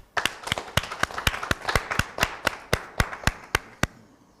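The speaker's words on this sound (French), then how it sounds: "On applaudit." Audience clapping on a French talk show set, sparse and rhythmic, about a dozen sharp hand claps in a steady beat, fairly close and alone without talk.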